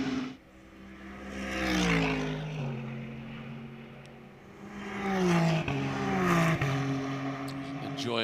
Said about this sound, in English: those sounds, real race cars on a racetrack again.